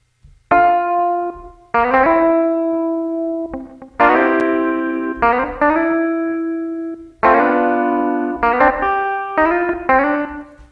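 Notes from the Presence XT software instrument in Studio One ring out in short phrases, each chord trailing into an added reverb tail before the next, clear and up front with no voices.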